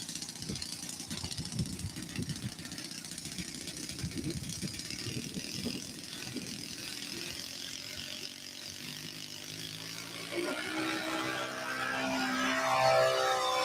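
A four-stroke RC model airplane engine drones at an RC flying field, rattling and low at first, then rising into a steadier, louder tone toward the end.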